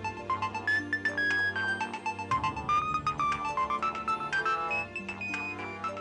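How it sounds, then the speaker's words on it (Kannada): A phone rings with an incoming call. Its melodic ringtone plays loud and continuous in a repeating tune of bright notes for about six seconds, with no voices over it. "ಅಪ್ಪ ಫೋನ್ ಮಾಡ್ತಿದ್ದಾರೆ."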